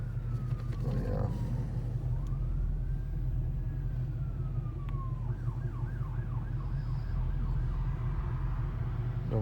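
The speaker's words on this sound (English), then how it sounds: "Ambulance coming." An ambulance siren passes near a moving car, its wailing tone sweeping up and then into rapid yelping cycles over the low, steady hum of the cabin and road noise.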